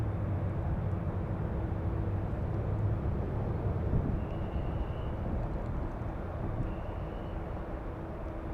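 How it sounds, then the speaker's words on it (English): Steady, loud broadband rumble of a Max Air Cargo plane at LAX, with a deep, train-like drone that holds nearly unchanged throughout. "It's the plane that sounds like a train."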